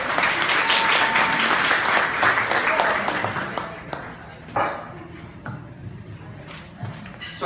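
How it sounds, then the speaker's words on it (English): A round of applause at a Susan G. Komen 3-Day walk fundraiser presentation, with full crowd clapping at first that thins to scattered claps and background murmur in the second half. "One last round of applause for Katie."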